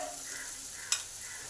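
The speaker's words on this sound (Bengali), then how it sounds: "এবার এই পেঁয়াজটাকেও ভালো করে ভেজে নেব।" Onion frying with salt and grated ginger in a pan, quiet continuous sizzling with a single sharp scrape of the spatula as it is stirred, no talking.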